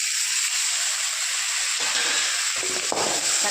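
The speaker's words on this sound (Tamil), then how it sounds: "இப்போ பாருங்கள், தக்காளி போட்டுக்கலாம்." Tomatoes sauté in a hot pan for an egg curry, a loud, dense sizzle with a few stirring scrapes toward the end.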